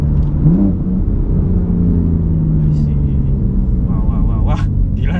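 A BMW M4 with a stage 2 tune and full Akrapovic exhaust system rumbles loudly from inside the cabin as it accelerates through the gears, a deep engine drone under people talking.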